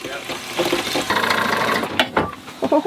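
Water runs from a faucet aboard a sailboat while hoses leak, a steady hiss and splash close by with people talking over it.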